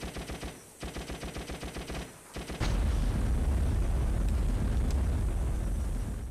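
Rapid bursts of machine gun fire in the PS2 game ShellShock: Nam '67 rattle in quick rhythmic volleys with short pauses, then give way to a dense, roaring wash of continuous gunfire.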